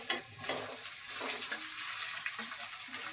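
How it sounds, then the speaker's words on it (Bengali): Ginger, carrots and potatoes fry in hot oil, giving a steady close sizzle with a few soft scraping and stirring clatters from the pan, and no talking. "আদাটা ভাজা হয়ে গেছে, আমি গাজর আলু একসঙ্গে দিয়ে দেবো"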